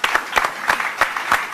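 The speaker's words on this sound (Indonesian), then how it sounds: "Ya, tepuk tangan untuk mereka bertiga untuk" An Indonesian talk-show studio audience claps for three guests. Crisp, spaced claps come in a quick, even rhythm, close and fairly loud, with no talk over them.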